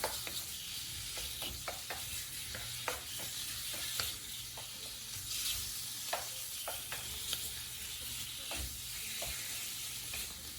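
Meat fries in a pan over a gas burner at medium heat, giving a constant sizzling hiss with frequent short scrapes and taps as it is turned and stirred. The sound is close and steady, with no voices.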